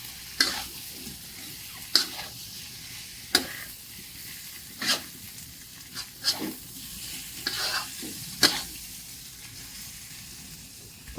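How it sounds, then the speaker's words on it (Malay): Young jackfruit and shrimp sizzling softly in a pan while a utensil stirs and scrapes, with sharp periodic clinks against the metal every second or two. "Kita gaul-gaul saja ya, dia dah masak semua, kita gaul sahaja"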